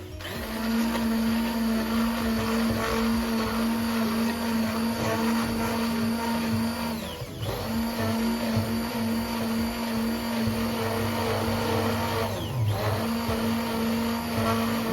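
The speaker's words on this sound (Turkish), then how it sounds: "blenderımı böyle ağır bir devirde önce yumurtamı şöyle yaklaşık bir dakika kadar çırpıyorum" A blender running at low speed whisks eggs for homemade mayonnaise, giving a steady, loud motor whir that holds throughout with two brief dips in pitch.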